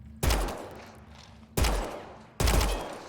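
Three loud, separate gunshot blasts from a weapon in the Space Dragon video game, spaced over a few seconds, each ringing out with a decaying tail, with no voices.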